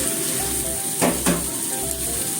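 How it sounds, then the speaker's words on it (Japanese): Sweet potato kinpira being stir-fried in a soy-sauced pan, a constant close sizzle with two quick stirring swishes partway through. "炒めますよ。"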